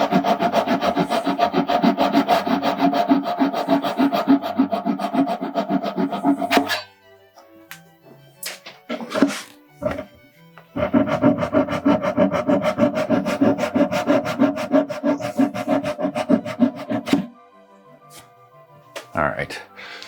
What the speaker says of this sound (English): I need to flush cut these plugs and then sand